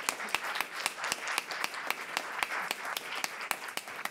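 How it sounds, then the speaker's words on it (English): Sparse, steady hand claps ring out in a small room at a community evening event, each clap distinct and fairly near, with no voices over them. "Keep the round of applause going"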